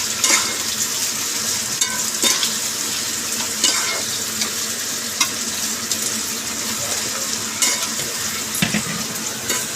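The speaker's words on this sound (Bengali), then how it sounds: "এখন পেঁয়াজটা ভাজবে।" Onions frying in a pan for a home chicken curry, a steady close sizzle with scraping stir clicks throughout and no talk.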